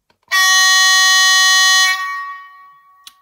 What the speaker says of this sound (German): Das ist das lange Signalhorn.